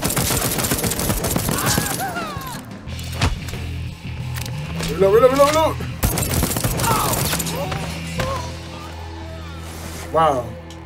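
Gunfire in the video game Deathloop, a burst of shots and bangs spread through the passage, mixed with game effects and a talking voice.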